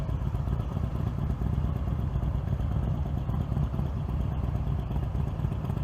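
A Moto Guzzi motorcycle engine running steadily nearby, a low rumbling idle with light mechanical clatter and no talking.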